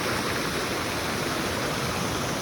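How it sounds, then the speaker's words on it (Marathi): A steady, loud roar of rushing water pours down without a break, full and hissing like a waterfall, with no voices. "खूप वरून पाणी चाललं आहे"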